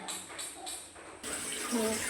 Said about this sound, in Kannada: ಒಂದು ಪಾಟಿ ನೀರು ಹಾಕ್ಕೊಳ್ತಾ ಅದು ಸ್ವಲ್ಪ ಮುಳುಗೋ ತನಕ